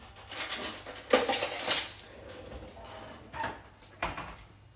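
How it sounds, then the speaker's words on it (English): A spoon scoops gravy from a pot of stovetop lamb shanks with carrots, giving a few clinks and scrapes of metal on the pot in short bursts, with quieter handling between. "Let's scoop some of that gravy on."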